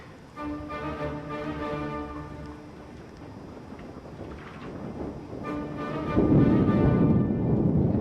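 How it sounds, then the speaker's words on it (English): Low thunder rumbles and rolls in the distance, swelling louder near the end with rain-like hiss mixed in. "Hear the thunder, that's why we're not allowed out there."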